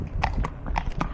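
Horse hooves clip-clop on a street in a close, steady rhythm of about four distinct hoofbeats, with no talking.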